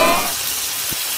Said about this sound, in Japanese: こちらのねカルディさんのマーラーシャンゴーを全部加えます